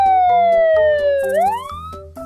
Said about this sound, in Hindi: जमीन के ऊपर पुलिस सायरन सुनाई देती है।